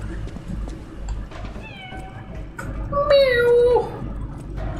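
A cat meowing in the video game Lies of P, a couple of drawn-out plaintive meows rising over a low rumbling game ambience, fairly close and clear.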